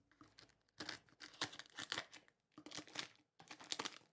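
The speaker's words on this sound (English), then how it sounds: "I got scissors here. Let me see. I'll open this up." A package is cut open with scissors up close, with bursts of crinkling and tearing plastic and cardboard in several uneven rapid clusters separated by short pauses.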